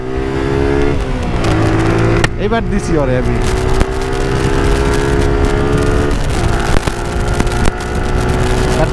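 Honda CB Hornet and Suzuki Gixxer motorcycles accelerate side by side in a drag race, their engines droning loud and close with rising revs, while people talk over the noise.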